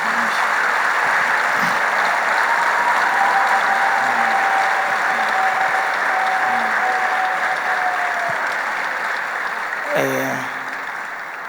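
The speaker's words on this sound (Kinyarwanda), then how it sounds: "muhe Yesu amashyi menshi" Sustained applause for Jesus from a church gathering crowd, dense and steady clapping that holds at a fairly even level throughout, with a thin whistle-like tone running over it for several seconds.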